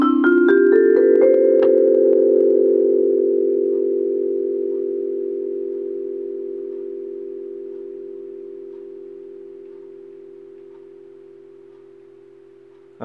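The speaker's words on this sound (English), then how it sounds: "It's still ringing. They just ring for forever." Vibraphone bars struck in a quick rising run, then left ringing with the sustain pedal held, one blended tone slowly fading over many seconds until a faint click at the end.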